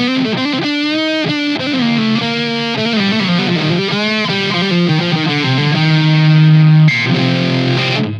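Solar V 1.6 FRC electric guitar played on its coil-tapped neck pickup through distortion, with continuous strummed chords and ringing single notes and a sustained held note near the end, loud and alone with no talking.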